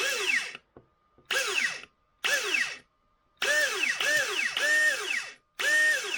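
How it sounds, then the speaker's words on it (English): The flywheel motors of a Nerf Auto Stryfe blaster, one of them loose, whir up in repeated short revving bursts with pitch swooping up and down on a 2S battery, loud and close with gaps between spins. "Well, both of the motors are turning, but that one's loose"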